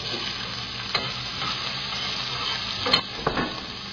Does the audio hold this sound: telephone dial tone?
no